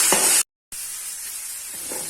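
Tomato, garlic and onion sauté in a pan for stingray curry, giving a soft, even sizzling hiss that cuts out briefly and then resumes steadily.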